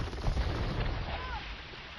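Cannon galleon broadsides in Age of Empires II sound as a short, heavy boom that fades into a rumbling tail in a brief burst of naval combat.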